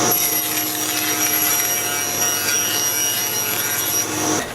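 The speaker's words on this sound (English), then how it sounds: "at the table saw, I cut the back panel" A table saw rips a wooden back panel to width in a woodworking shop, a loud, steady whining cut holding for about four seconds before cutting off abruptly.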